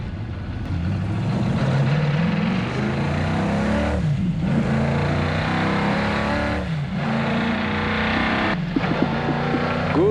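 A Ford GT40 race car charges along a closed rally stage, its loud engine revving and roaring continuously up close, with brief lifts and shifts between bursts of acceleration.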